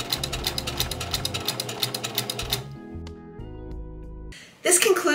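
Sewing machine edge stitching the hem of a camisole, a close rapid mechanical chatter for a few seconds that stops, then soft background music and a short burst of noise at the end.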